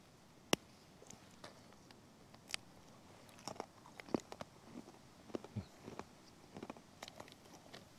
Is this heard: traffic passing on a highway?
no